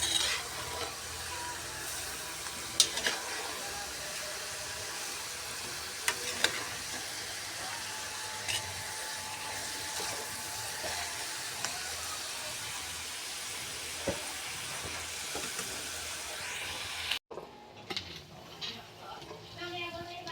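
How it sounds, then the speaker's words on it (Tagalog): Pinapaitan being sautéed and stirred in a pan: steady close sizzling and frying hiss with occasional scraping clinks of a utensil, continuing throughout before cutting off near the end. "Halo-haluin ko daw."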